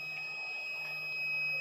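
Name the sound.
continuity beep while testing Splendor bike wiring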